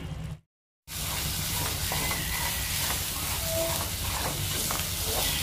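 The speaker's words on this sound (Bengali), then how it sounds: "এবার মা মাছটাকে মশলার সাথে ভালো করে কষাতে থাকবে" Lote fish frying and being stirred with spices in a pan, a continuous close sizzle and hiss with light scraping, after a brief silent gap at the start.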